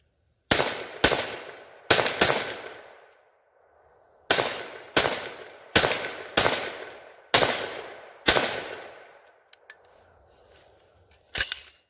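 Sharp gunshots from a 10.5-inch BCA Bear Creek .22 Magnum rimfire AR upper, eleven or so close, loud cracks fired in short irregular strings with brief pauses between, each shot trailing off in a short echo.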